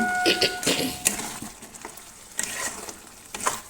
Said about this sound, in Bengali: হলুদ গুঁড়ো আর লঙ্কার গুঁড়ো দিয়ে দিয়েছি দিয়ে এবার কষবো